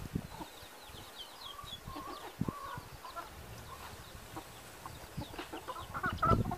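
Hens cluck faintly and intermittently in a farmyard after chasing off their chicks, with soft rustling and background noise throughout.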